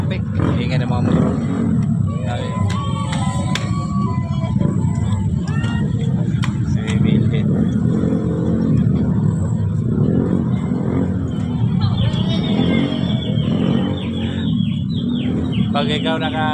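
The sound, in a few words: motorcycle traffic engines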